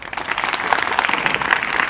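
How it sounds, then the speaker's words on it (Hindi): A group of children clap loudly together after a breathing exercise, a brisk, dense burst of applause filling the room for a couple of seconds. "जोरदार ताली बजाओ।"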